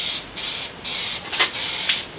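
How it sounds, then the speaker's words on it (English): Plastidip rubber coating sprayed from a can onto a car body in a wet coat, a steady close hiss of aerosol with a couple of brief louder bursts, no voices. "I've been spraying Plastidip."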